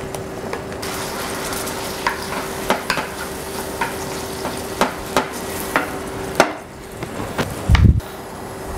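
Meat frying in a pan, a steady sizzle punctuated by regular sharp clicks and scrapes of a utensil against the pan, close and fairly loud with no talking.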